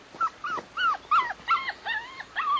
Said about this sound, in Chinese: 是被人丢弃的小狗狗